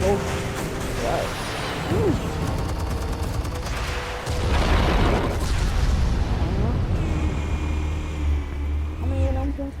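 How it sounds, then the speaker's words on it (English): Explosions and gunfire-like bursts crash through a Batman video game, with the loudest blasts midway, under steady talking from players. "I wasn't expecting explosions."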